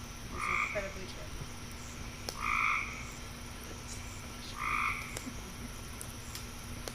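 Frogs croak by a pond at night, three distinct, evenly spaced croaks, each a short, raspy burst standing out clearly over a quiet background.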